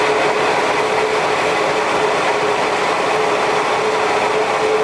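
A lathe spindle running during a finishing pass on a turned step, a loud, steady broadband machine whir with a constant hum, continuous and unchanging with no talking.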